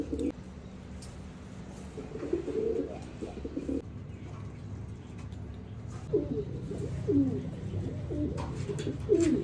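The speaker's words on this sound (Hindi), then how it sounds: "सारे कबूतर जो है ना बोली जा रहे हैं" Several pigeons in a cage coo in low, throaty bursts, overlapping at close range against a faint background hum, with no talking.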